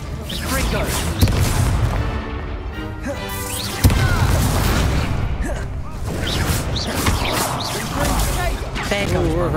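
Confringo explosive spell blasts in Hogwarts Legacy, heard as sharp crashing booms, two standing out strongly amid a dense, continuous clamor of combat effects.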